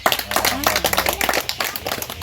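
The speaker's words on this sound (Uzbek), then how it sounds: "Qarsak shunday chiroyli so'zlari uchun" An audience applauding at a performance, with dense rapid clapping that stays steady and fairly loud throughout, a voice heard over it.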